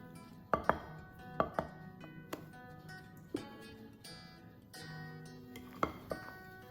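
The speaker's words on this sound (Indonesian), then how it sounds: "Ini aku ngaduknya ganti pakai hand whisk ya teman-teman, supaya lebih cepat tercampur rata" Hand whisk working through a thick chocolate cream cheese cake batter in a bowl, quiet scraping strokes broken by sharp clinks against the bowl at irregular intervals, with faint ringing tones in the background and no voices.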